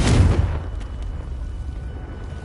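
A Confringo blasting spell from the video game Hogwarts Legacy goes off as one loud, close boom that trails into a fading rumble.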